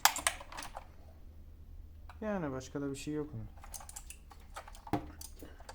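Keys clatter on an MSI GK50Z mechanical keyboard with plastic top and base, a quick run of close, crisp clicks while someone talks over it.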